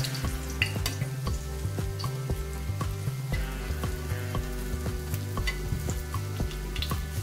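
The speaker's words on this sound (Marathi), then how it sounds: "आता ही साईड आपण थोडी फ्राय करून घेऊया." Crispy vadi made from tiny fresh shrimp frying in a pan, a steady close sizzle with scattered pops and light scraping taps, no speech.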